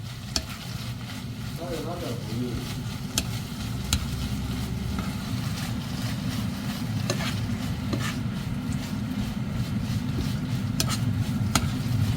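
Garlic slices sizzle and hiss in a pan while anchovies are stir-fried, with a steady frying crackle and occasional scrapes and clinks of stirring throughout.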